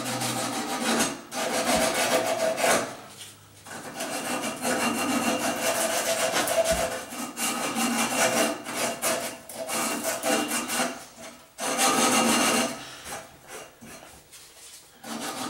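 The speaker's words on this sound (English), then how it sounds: "Got my sandpaper." Sandpaper scrubbing a copper pipe clean before soldering, a steady close-up rasping rub in continuous strokes with a few brief pauses, no talking.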